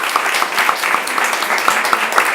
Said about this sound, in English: Let's do a big round of applause for the team.